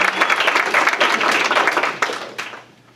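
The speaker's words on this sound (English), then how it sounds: "Let's give a round of applause to Marcy Rosenbaum." An audience at a songwriting and story circle workshop claps warmly for about two seconds, then the applause thins out to a few scattered claps and fades.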